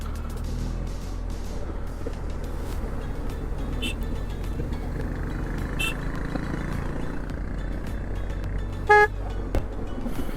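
Vehicle horns honk amid a traffic jam caused by a lorry on a road trip by BMW 1250 GSA motorcycle, a loud close blast near the end standing out above steady rumbling traffic and wind.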